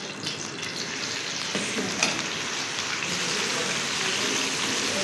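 Onions, garlic and ginger frying in cooking oil give a continuous, dense sizzling crackle with occasional stirring scrapes, steady and fairly close, with no talking.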